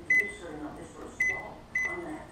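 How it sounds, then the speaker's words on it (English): Three short, bright electronic beeps from a microwave oven as it is set to melt soft plastics in a glass jar, evenly spaced and fairly close, over quiet room noise. "I'm gonna stick it in the microwave"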